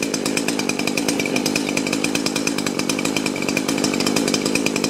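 Chainsaw held at high throttle with a fuel mixture fault that makes it bog down, giving a loud, steady, close buzzing engine note with rapid regular pulsing and no speech.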